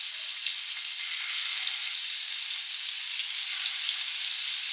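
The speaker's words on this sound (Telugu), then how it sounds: "ఇప్పుడు ఆయిల్ హీట్ అయిపోయినాక ఈ చికెన్ ముక్కలన్నీ ఇందులో యాడ్ చేసుకోవాలి" Chicken pieces fry in hot oil for a lemon pepper chicken dish, giving a steady, loud, even sizzle that holds without a break from start to finish, with no voices.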